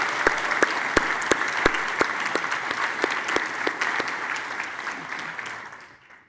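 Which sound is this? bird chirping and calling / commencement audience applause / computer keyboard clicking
commencement audience applause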